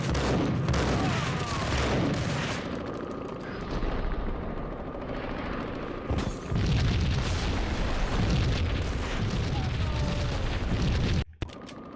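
Gunfire and explosions in the video game Max Payne, dense bursts and heavy booms rolling continuously at close range, with a brief drop near the end and some game voices mixed in.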